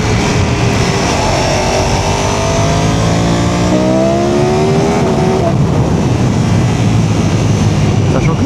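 A Ducati Panigale V4 S motorcycle accelerating hard in fourth gear from about 80, its engine note climbing loudly and steadily over heavy wind roar, recorded up close from the rider's position.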